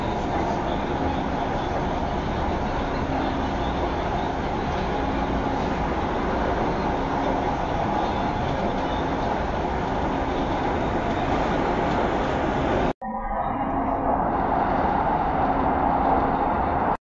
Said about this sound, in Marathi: तर समोर तुम्ही बघू शकता कशा प्रकारे प्रवेश केलेला आहे मेट्रोने।